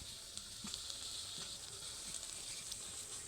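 Boiled kabuli chickpeas tipped into a hot frying pan, a steady close hiss of sizzling oil with a few light clicks from stirring.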